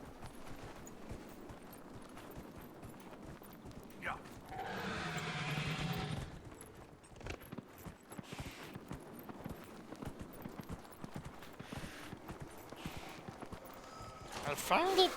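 Hoofbeats clip-clop through a video game horse ride, with a whinny standing out partway through and steady game ambience running throughout, fairly soft in level.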